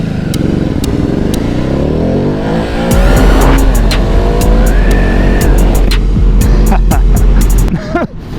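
Loud Ducati Hypermotard 950 motorcycle engine roaring and revving hard during a wheelie on a road in Thailand, sustained close engine noise with rising pitch sweeps, easing off at the end; faint talk underneath.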